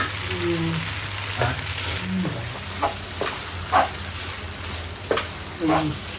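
Steady sizzling of food stir-frying in a pan, with occasional scraping clinks of a utensil stirring it, continuous and close.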